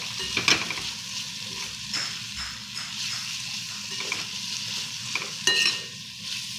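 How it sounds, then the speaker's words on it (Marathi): Sev being stirred into a softened onion-and-tomato curry in a pan, giving a continuous sizzle broken by repeated scraping strokes of a spoon against the pan, close and fairly loud. "आता ही शेव व्यवस्थित मिक्स करूया।"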